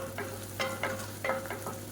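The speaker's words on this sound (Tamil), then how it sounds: "வெங்காயம் நல்லா ப்ரௌன் கலரில் வதங்கட்டும்" Gentle frying of onions and green chilies in oil in a pan, with a few soft scraping stirs and a low steady hum running underneath.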